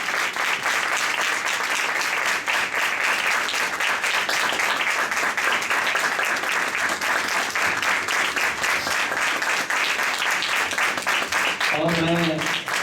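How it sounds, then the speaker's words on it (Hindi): A church congregation applauds loudly to welcome Pastor Asha, sustained crowd clapping that carries on without a break, with a voice speaking briefly near the end. "आइए जोरदार तालियों से खुदा की खादम को वेलकम करेंगे।"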